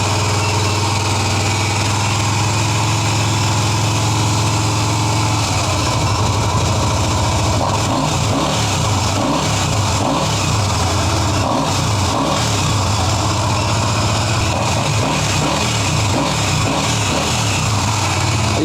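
A budget bobber motorcycle engine idling loudly up close, then revved repeatedly in rising and falling bursts.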